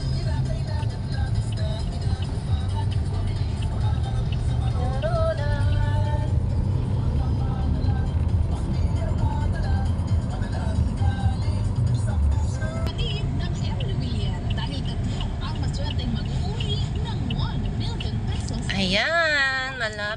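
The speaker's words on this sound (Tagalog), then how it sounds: "Traffic." Road traffic rumbles continuously on a street in San Fernando City, La Union, with vehicle engines, a passing motor and a brief tonal whine near the end, while people talk.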